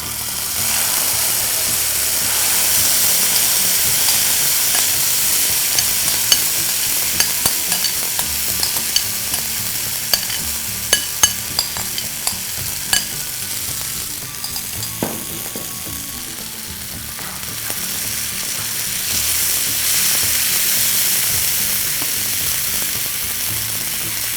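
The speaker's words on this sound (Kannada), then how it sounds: "ಈಗ ಒಲೆ ಉರಿನ ಕಮ್ಮಿ ಮಾಡಿಕೊಂಡು ನಾವು ಮಾಡಿದ್ದ ನಿಂಬೆಹಣ್ಣು ಮೆಣಸು ಜೀರಿಗೆ ಮಿಶ್ರಣವನ್ನು ಇದಕ್ಕೆ ಸೇರಿಸ್ತಾ ಇದ್ದೀನಿ" A lemon, green chili and cumin mixture goes into a hot pan with popped mustard seeds over low flame, giving a continuous close sizzle of frying with scattered scraping clicks from stirring, and no voices.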